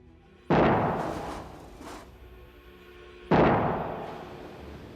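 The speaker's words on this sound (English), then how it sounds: "If you take the wing of a 747, you can deflect it 29 feet at the tip before it breaks." Boeing 747 wing failing under load in a structural strength test: two sharp, loud explosive cracks a few seconds apart, each with a long rumbling decay.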